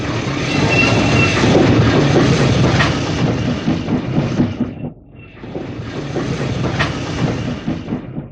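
A British Railways train rolls into Hawkhurst station, its wheels clattering and rumbling loudly with rhythmic clickety-clack, briefly dipping before the rolling noise resumes at steady strength, with no voices.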